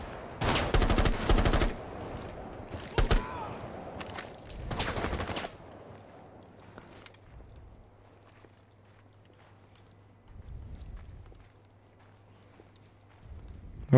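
Video game gunfire, loud close bursts of rapid shots in the opening seconds, then quieter scattered sounds with a low steady hum in the background.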